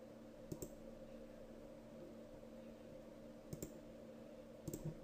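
Mouse clicks at a computer running Maya: three faint, sharp clicks, one of them doubled, spaced apart over a quiet steady hum, with no speech.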